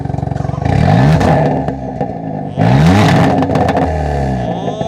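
Kia K3 GT 1.6 turbo with full aftermarket exhaust line and variable valve, revved hard in two loud close blips rising and falling, with a rumbling idle between and crackling overrun.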